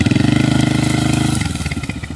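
Motorcycle engine heard up close as the rider takes a curve, a steady rapid pulsing throb that loosens and drops in pitch as the bike eases off.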